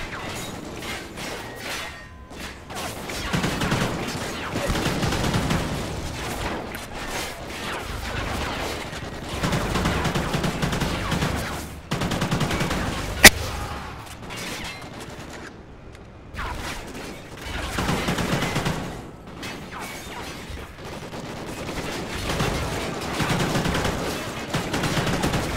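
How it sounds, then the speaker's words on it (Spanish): Gunfire during a Call of Duty: Ghosts mission, with repeated bursts of automatic shots and sharp single cracks scattered over nearly half a minute, mixed with game noise and a voice talking. "Le estaban disparando desde detrás."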